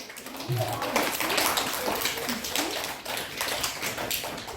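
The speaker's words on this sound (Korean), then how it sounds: "박수!" Elementary school children clap together during a special classroom lecture, a quick run of fairly soft, even claps under a faint voice.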